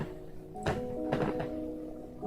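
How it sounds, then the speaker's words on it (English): Night fireworks in Assetto Corsa on Usui Pass give two muffled, fairly faint pops about half a second apart over a steady low car hum. "that popping noise you hear is actually fireworks because I have my CSP set up to do fireworks at night."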